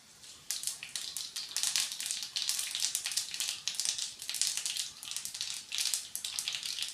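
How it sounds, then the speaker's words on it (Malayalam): Mustard seeds splutter in hot oil, a loud, dense crackle of rapid pops that comes in repeated bursts for several seconds with no talking. "കടുകെല്ലാം നന്നായി പൊട്ടി വന്നിട്ടുണ്ട്"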